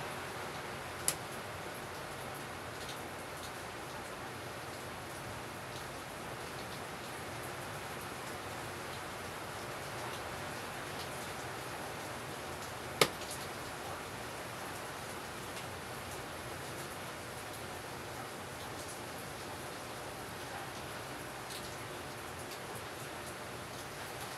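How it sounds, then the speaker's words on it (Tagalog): Rain falls steadily outside during a home motherboard repair, a soft, even hiss with no pauses and a couple of faint ticks, with no talking. "Umuulan po sa ating bayan."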